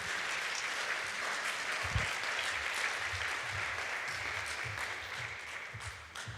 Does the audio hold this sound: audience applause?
yes